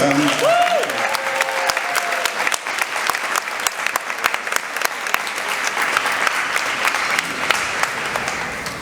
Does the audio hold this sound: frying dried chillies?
no